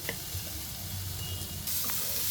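Ivy gourd frying in a pan with rock salt, a soft steady sizzle heard close up with faint stirring clicks, quiet and continuous with no talk.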